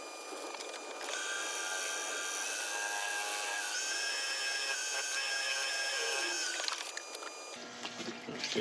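A spalted wood piece spins on a woodturning lathe while True Grit abrasive paste polishes it, giving a steady whirring hum with a faint rubbing hiss that runs for several seconds and then winds down.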